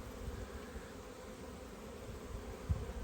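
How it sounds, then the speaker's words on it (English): Honey bees hum around an apiary hive during a hive inspection, a soft, continuous buzzing drone close by with a few brief knocks. "is absolutely alive with bees"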